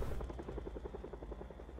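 Helicopter flying away in the zombie survival game Project Zomboid, a steady rhythmic rotor thump with a low engine drone, fairly quiet and distant, heard alone.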